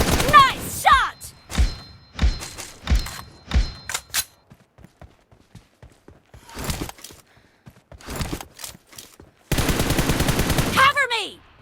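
Bursts of machine gun fire from the mobile battle royale game PUBG Mobile in team deathmatch, loud and clustered in the first four seconds and again near the end, with sparser shots and game voice callouts between.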